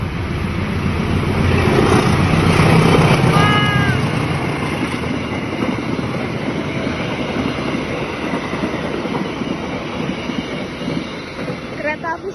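Serayu passenger train from Purwakarta passing through Klender station, a loud rumbling roll with clattering wheels and a brief high squeal, swelling early then holding steady as the cars go by.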